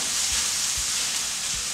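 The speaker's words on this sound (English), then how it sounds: "listen to that sizzle. That is the tomato sauce" Tomato sauce sizzles and hisses steadily in a hot pan while spaghetti and turkey meatballs are being prepared, a constant loud frying crackle heard close up with a few soft low thumps.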